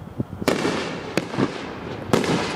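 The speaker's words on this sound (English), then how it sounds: "let me see if I can catch some better fireworks" Fourth of July fireworks explode in sharp, loud bangs, three distinct reports spaced irregularly over a rumbling, crackling outdoor background.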